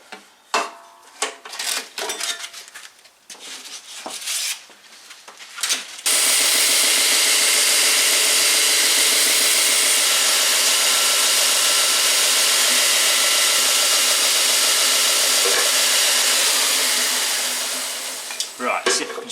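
A zipper is sanded with 120-grit sandpaper, giving a loud, continuous, hissing grind that runs steadily for about twelve seconds after a stretch of clicks and handling noises, then tapers off.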